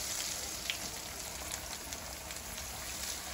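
Eggplant slices fry in a hot pan, a steady close sizzle and crackle with soft popping, continuous and fairly quiet.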